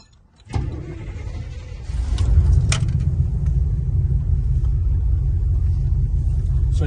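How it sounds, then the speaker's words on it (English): 1965 El Camino engine starting with the ignition key: a faint click and brief cranking, then the engine catches into a loud, steady low rumble that settles into an even idle, close by. "So I've got to get the right key for the ignition here."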